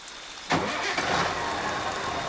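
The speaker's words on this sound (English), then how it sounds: "Joe started the engine again." Truck engine starting on a rough journey, a sudden crank-and-catch burst followed by a steady close rumbling idle.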